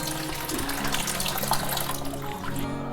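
Water runs steadily from a tap into a vessel for washing prawns in a kitchen, a continuous close splashing flow with no talk.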